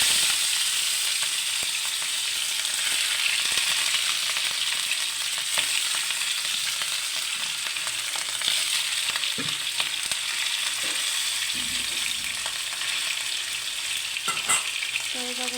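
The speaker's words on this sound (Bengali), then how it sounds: "আমি ফ্রাই প্যান বসিয়ে তেল দিয়ে দিয়েছিলাম, আর মাছগুলো দিয়ে দিতেছি" Fish pieces fry in oil in a frying pan, producing a loud, unbroken close-up sizzle with a few soft taps and scrapes as pieces are added and moved.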